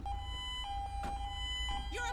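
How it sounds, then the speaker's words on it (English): A UK police siren in GTA V with the LSPDFR mod wails with a steady high tone over a loud, continuous engine rumble, with short game sound effects breaking in. "that's another UK siren."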